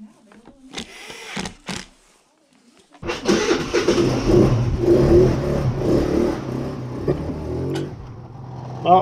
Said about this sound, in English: I'm gonna take it for a little test drive, make sure everything's doing well